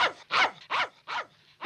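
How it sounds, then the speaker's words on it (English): Four loud, close dog barks spaced evenly in a rhythmic series, each sharp and full, with brief quiet gaps between them and no talking. "What's that dog barking at?"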